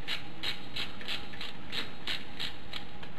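Bolts are tightened down on a TA II backstop, a rapid regular ratcheting click repeating about every third of a second, close and steady throughout, no speech.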